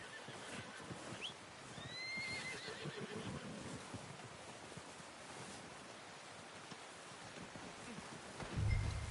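A horse in Red Dead Redemption 2 whinnies with high, rising squeals early on, over steady outdoor ambience, followed by a soft snort and a low thump at the end.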